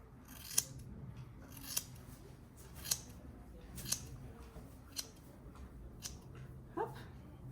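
Steel scissors snip through a horse's mane in crisp, sharp cuts, about seven evenly spaced clicks over a low, quiet background.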